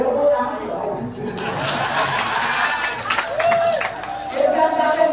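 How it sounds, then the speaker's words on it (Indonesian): Audience applause and cheering at a ketoprak performance, a crowd clapping and calling out in a lively burst, with people talking over the noise. "Boleh tepuk tangan ya?"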